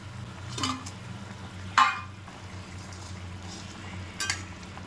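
Fish goes into a pot of cooking ridge gourd and potato, giving a soft, low simmer under a few sharp clinks and scrapes of stirring.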